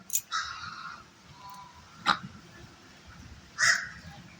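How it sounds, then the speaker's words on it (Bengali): Crows caw outdoors in a few loud, separate bursts during a rising storm, with a faint low rumble of wind underneath. "ওই দেখুন পাখির আওয়াজ"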